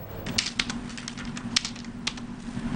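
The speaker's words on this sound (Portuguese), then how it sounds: "O teclado de Silvana nunca foi tão usado para compras como agora" Someone types rapidly at home on a computer keyboard to shop online. The keys give close, crisp, uneven clicks in short bursts, with one louder key strike standing out, over a low steady hum.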